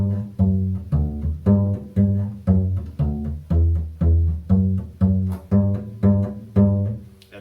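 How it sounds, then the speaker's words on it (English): Plucked double bass, a steady run of about a dozen deep round notes in an even rhythm, each with a quick attack and short decay, close and alone with no voices. "if you pluck that same song"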